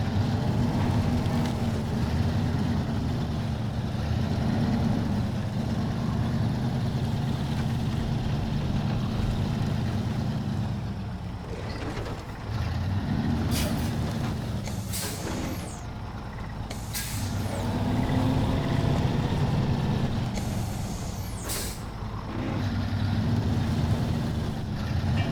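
Heavy truck grinding off-road in Snowrunner, a continuous loud engine drone rising and falling with load, broken by short sharp hissing bursts like air brakes or releases.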